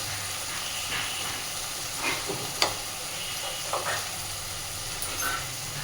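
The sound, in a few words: spice paste of cumin and coriander powder frying in pan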